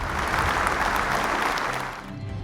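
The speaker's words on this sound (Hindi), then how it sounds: "जोरदार तालियों से इस टीम का स्वागत करिए।" An audience at a Bible quiz event claps to welcome a team onto the stage, a broad, steady burst of applause that fades slightly near the end.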